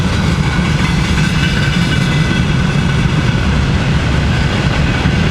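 A train rolls past on a railway in the Russian north, Arkhangelsk region, a short half-length locomotive pulling a long consist; steady, loud broadband rumble throughout with no talk.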